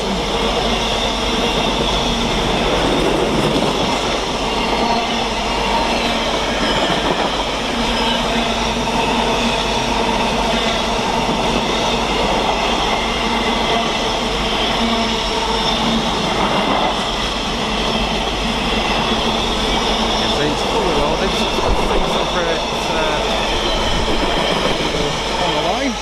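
A Class 66 diesel freight locomotive, 66136 in cargo livery, passes at Stafford on the West Coast Main Line, hauling wagons with a loud, sustained rumble and a steady engine drone, wheel clatter and squeal running close by.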